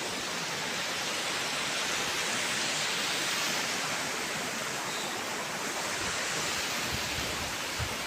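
A swollen river rushes past in a loud, unbroken roar of churning water, with no voices.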